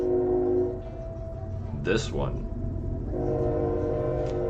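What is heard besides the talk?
train passing with train horn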